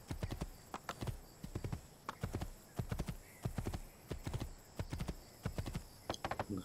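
Horse hooves clip-clop in a steady galloping rhythm in Assassin's Creed 2, a crisp, close series of regular hoofbeats that continues throughout without pause.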